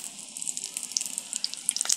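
Shutki (dried fish) fritters fry in a little oil, giving a soft, steady sizzle dotted with tiny crackling pops.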